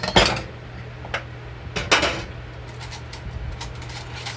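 A small spoon scooping from a jar while cooking a sriracha chili bowl: a few sharp clinks and scrapes of metal against the container, spaced apart, close and fairly quiet over a low hum.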